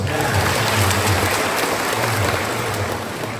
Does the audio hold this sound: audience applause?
yes